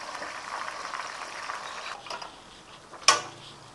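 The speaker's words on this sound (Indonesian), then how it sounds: "Jadi kita goreng satu-satu dulu." Carp, split open, frying one piece at a time in hot oil, giving a steady bubbling sizzle that fades slightly before a sharp crackling burst near the end.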